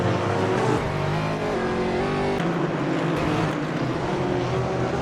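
GT3 race cars in a sim racing game battle at Nürburgring, their engines droning loudly and continuously with shifting pitch as the pack runs close together, no voices present.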